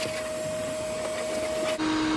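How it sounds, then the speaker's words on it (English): A vacuum cleaner cleaning the seats of a GMC Sierra pickup truck runs with a steady, loud whine and a continuous hum, and its pitch drops abruptly near the end as the load changes. "This vacuum's feeling a little weak today."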